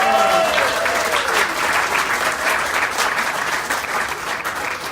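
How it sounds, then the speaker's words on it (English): Sustained applause from an audience at a 25th anniversary celebration, dense steady clapping throughout with faint speech at the very start, holding loud and even before easing slightly near the end. "How about a round of applause?"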